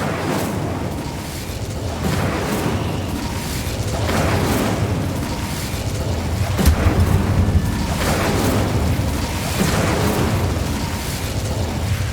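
A fire spell cast in the Hogwarts Legacy video game, heard as a series of deep booming bursts and rumbles that swell and fade over a steady roar, with no talk.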